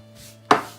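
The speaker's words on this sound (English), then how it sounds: "I took the onions and then started chopping" Onions are chopped with a single sharp knife strike on a board, close and crisp against a quiet room, with no talking.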